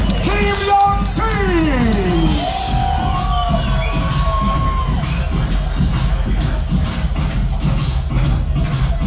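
A loud arena crowd at a bantamweight IPFC fight night cheers and whoops, with shouts and a wash of noise holding steady throughout, while an announcer's voice rings out over the top.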